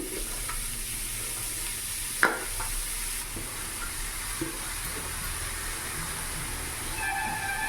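Grated cauliflower stirred in a hot pan, a continuous close sizzle and frying hiss with a few spoon knocks and scrapes against the pan, no talk.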